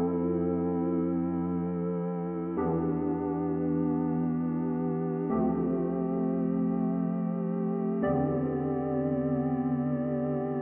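A synth tone run through a decimator set to 7.7K takes on a murky, underwater, lo-fi texture, playing four sustained chords that change every few seconds with a gritty, bit-crushed edge and no talking.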